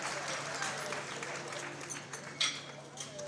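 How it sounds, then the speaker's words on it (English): Applause at a powerlifting nationals meet after a national record lift, a steady spread of clapping from the crowd under an announcer's voice, with a sharper burst partway through. "Give her a round of applause."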